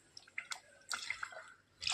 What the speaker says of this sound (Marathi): त्याच्यात टाकूया आपण पाणी.